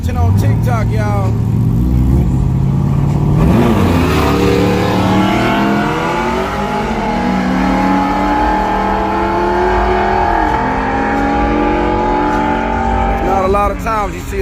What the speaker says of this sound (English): Not a lot of times you see a truck beat a motorcycle.